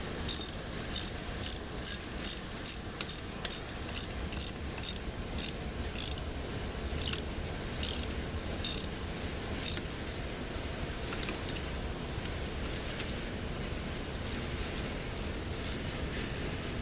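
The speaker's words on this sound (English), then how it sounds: "now we're tightening these screws. This is a 1/2 inch." A ratchet tightens 1/2 inch screws while mounting a pelvic frame onto a base frame, giving a series of crisp, close clicking bursts in a fairly regular rhythm that grow sparser and softer toward the end.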